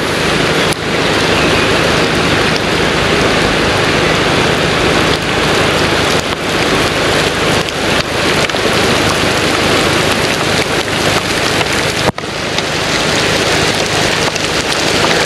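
Heavy rain pours down outdoors at a fishing spot, a loud, dense and unbroken hiss of drops striking surfaces, with no voices over it.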